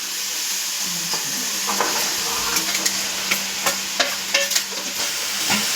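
Mushrooms frying with softened tomatoes in a pan, a steady close sizzle with scattered spatula scrapes and light taps on the pan.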